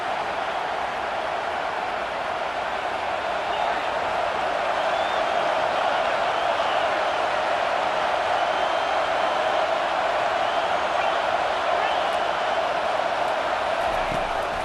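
A home crowd at a college football game roars steadily and loud for the whole stretch as the defense tries to get off the field on third down, a broad sustained wash of cheering.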